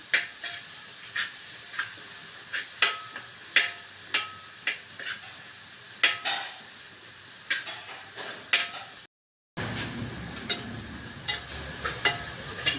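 Bottle gourd thoran, a Kerala vegetable stir-fry, cooking in a pan over a flame: a steady soft sizzle punctuated by regular scraping and stirring knocks, briefly cut off and then returning as a louder hiss.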